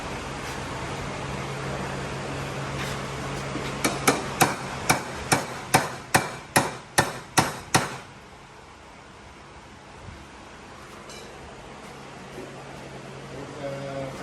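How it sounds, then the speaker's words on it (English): A small tapping hammer strikes a metal pipe that is out of round, about ten evenly spaced ringing blows at close range over a steady background hum, then the hammering stops. "I need a little tapping hammer because it's not round"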